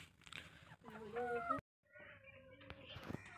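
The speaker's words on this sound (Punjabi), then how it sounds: "ਹੈਗੀਆਂ ਜੀ ਸਾਡੀ ਅਸੀਲ ਮੁਰਗੀਆਂ" Aseel hens clucking close by in short, choppy bursts, with a brief gap of silence midway before the clucking resumes, while someone speaks over them.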